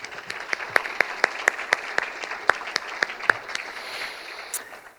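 An audience applauds at an optometry college white coat ceremony; the steady clapping is punctuated by a string of sharp, loud individual claps standing out near the front, then thins toward the end.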